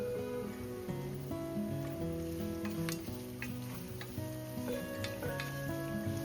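Whole cardamom pods, a bay leaf and cinnamon sticks sizzling in hot oil, a soft steady crackle with light ticking pops and spoon scrapes, under a faint background hum.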